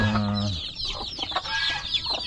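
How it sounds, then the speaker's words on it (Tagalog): Hens and newly hatched chicks clucking and peeping close by, a low rhythmic hen cluck at the start followed by busy overlapping high chirps. "kaya ang dami natin sisiw ngayon"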